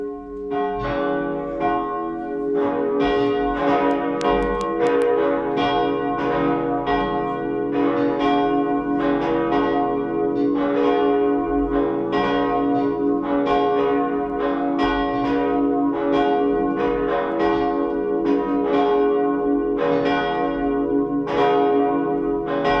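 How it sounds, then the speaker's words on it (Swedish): Church bells of a cathedral peal continuously in a dense, overlapping ring after Sunday high mass, loud and steady throughout with no voices. "Så får vi lyssna till klockringningen."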